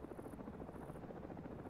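An enemy gunship helicopter in an Arma combat game on the Chernarus map, a faint, steady rotor thrum and buzz with no other sound over it.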